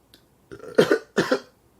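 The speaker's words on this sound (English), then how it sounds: "Allergies making me cough and belch." Two short, harsh coughs close by, a quick pair with a brief pause between them and silence around.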